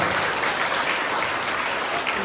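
An audience of students and families applauds at a primary school presentation day, a dense, steady wash of clapping that holds at an even level throughout the short stretch.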